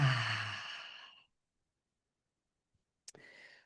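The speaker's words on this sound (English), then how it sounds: "And breathing out." A deep exhale at the start, a long breathy sigh fading out over about a second, then silence and a faint click.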